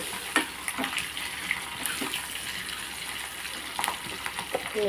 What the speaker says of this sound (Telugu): వెల్లుల్లిపాయలు బాగా వేగిపోవాలన్నమాట